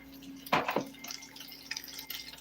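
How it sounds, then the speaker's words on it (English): Water poured in a small splash into a cooking pot while making German crogies from scratch, a brief burst of liquid followed by faint drips and kitchen clatter, near and alone. "I'm just going to add just a little bit more water, just a little drop."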